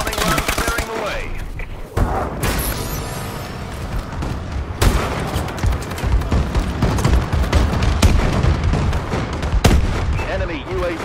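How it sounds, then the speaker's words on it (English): Explosions and heavy gunfire from a friendly bombing run in Call of Duty: Advanced Warfare multiplayer, a dense, loud barrage with sharp booming hits around two, five, eight and ten seconds over continuous rattling fire. "Friendly bombing run clearing the way."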